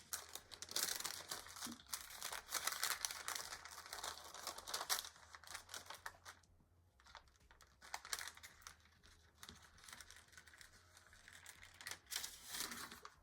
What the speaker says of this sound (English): slowly pull away the parchment paper.